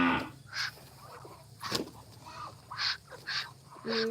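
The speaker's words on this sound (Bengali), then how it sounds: "এই হাঁসটা একবার হাত থেকে খাচ্ছে" A duck takes paddy grain from a person's hand, giving a series of short, fairly close bursts of quacking and pecking spaced through a quiet background, with no talking.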